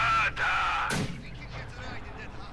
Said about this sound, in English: Rather close to getting hit there by the mortar.